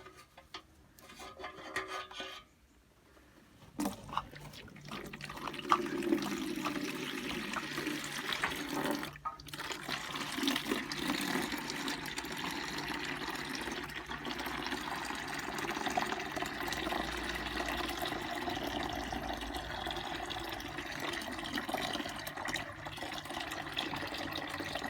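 Boiling water and loosened gunk draining from the open tap of a rusty fuel tank, a continuous hissing, trickling rush that starts after a few seconds of quieter scraping and then holds steady and fairly faint.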